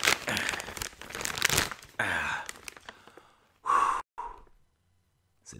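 A large cardboard poster tube being forced open by hand: close crinkling and scraping in bursts, with heavy breathing and sighs from the effort, then a couple of short sharp pops near the end before it goes quiet.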